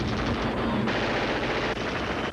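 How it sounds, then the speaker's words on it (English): A Thompson 1921 submachine gun with a 50-round drum firing movie blanks, a loud continuous rattling burst over a couple of seconds with no talk. "This is one of my favorite machine guns, if not my favorite. It's a Thompson 1921 model, 50-round drum, and it's just got a great flame."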